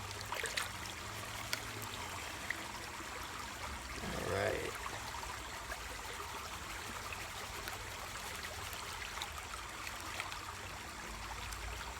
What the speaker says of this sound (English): Just dump in a little bit of water and swish some out.